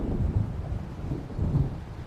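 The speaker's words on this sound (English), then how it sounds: "It seems there's a storm coming." Thunder from an approaching storm in Alan Wake rolls low and heavy, a loud sustained rumble swelling and easing in waves, with a hint of rain hiss underneath.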